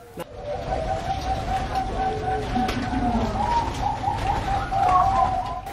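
Bangkok perkutut zebra doves coo steadily inside a breeding cage, soft repeated calls layered over a faint rustling background with no talk.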